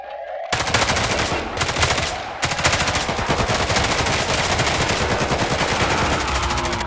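Rapid automatic gunfire from the Roblox game Hellmet, dense bursts of shots crackling loudly and nearly continuously after a brief quiet start, with a short gap early on.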